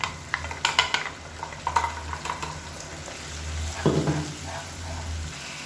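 Tomatoes and roasted spice powder stirred in a frying pan, with a soft continuous sizzle under clustered scraping and clinking of a spoon against the pan, fairly quiet and close.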